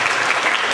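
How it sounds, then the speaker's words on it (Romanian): An audience at a 2013 spring school arts show claps in a dense, even burst of applause, close and loud, with no talk over it. "Mulțumim, aplauze"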